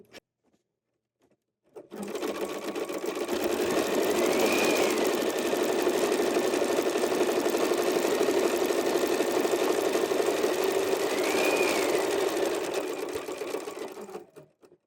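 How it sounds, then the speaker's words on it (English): A sewing machine stitching a fanny bag lining into position with cream thread, a steady rapid mechanical whirr running about twelve seconds at moderate level, starting and stopping cleanly with no talking. "now I've threaded up with our cream color thread, and we're going to stitch the lining into position"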